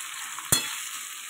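Hilsa fish heads frying in a pan, a steady oily hiss broken by two sharp bursts of spatter, close and without voices.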